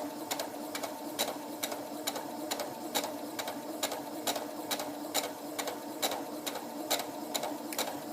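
A Brother CS 6000i sewing and embroidery machine stitches quilting fabric, a steady close mechanical whir with a regular needle tick repeating several times per second throughout, with no talking.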